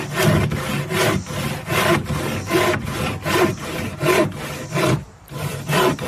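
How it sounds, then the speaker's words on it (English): A hand saw cuts through wood in steady back-and-forth strokes, loud and close, pausing briefly near the end before resuming. "when you use a saw, you're sawing. Watch what happens with the wood"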